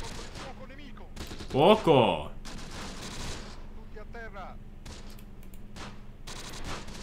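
Gunfire in the Close Combat wartime strategy game, a battle involving Italian commandos: a loud, dense burst of rapid shots near the middle, with scattered fainter reports and ongoing battle noise, and a brief spoken word.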